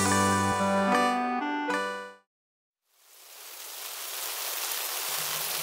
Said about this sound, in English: Aw, it's raining.